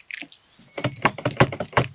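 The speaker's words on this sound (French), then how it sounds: "Je peux verrouiller la porte" A key turns the door lock of a camper van fitted with a Hartal lock, giving a quick jangle of keys followed by a cluster of close metallic clicks and rattles.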